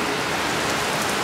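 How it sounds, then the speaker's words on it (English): Heavy rain pouring down outdoors beside a parked 2021 Lincoln Aviator Grand Touring, a dense, steady roaring hiss that fills the brief moment without a pause. "that rain is really coming down"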